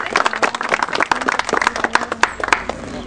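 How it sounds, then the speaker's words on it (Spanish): A crowd at a municipal retaining-wall inauguration claps, with many distinct, uneven hand claps spread over a few seconds at close to moderate distance. "Vamos a darle un aplauso al señor."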